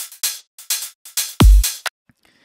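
Electronic hi-hats in a slap house drop play a quick syncopated pattern of short bright ticks, with one deeper kick thump near the end, then a faint tail; no voices.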